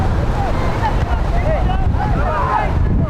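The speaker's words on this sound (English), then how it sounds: "Both teams are going to have to adjust to the wind. It has really picked up." Strong gusting wind buffets the microphone at an outdoor youth soccer match, a loud steady low roar with faint voices blurred underneath.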